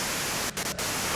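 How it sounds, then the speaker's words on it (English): A radio in the video game Disco Elysium gives off a steady, loud hiss of white noise, broken by two brief dips near the middle. "you can do it through the white noise"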